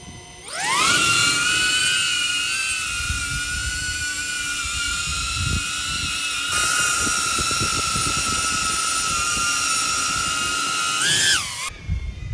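The motors of a DJI Avata FPV drone spool up and hold a loud, high, whining buzz through takeoff and hover. The pitch climbs sharply at the start and wavers just before the sound cuts out.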